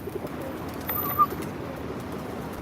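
A pigeon coos softly once or twice while being fed bread outdoors, faint against a low steady background hum.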